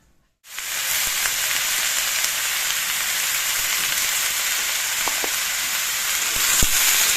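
Bottle gourd pieces hit hot oil in a pan and burst into a loud, close, continuous sizzle that holds steady for several seconds, with a few faint clicks of stirring and no talking.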